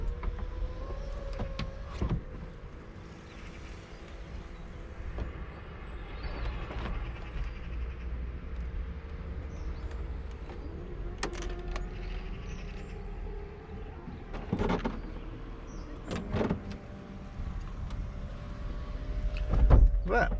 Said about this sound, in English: Drop the window, and I should extend the GoPro holder so you can see this in action.